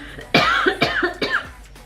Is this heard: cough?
yes